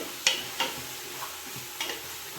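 Small-cut pieces frying in a pan for mutton bhuna masala: a soft, steady sizzle in the background, broken by a few light clicks and scrapes of stirring, quiet and close.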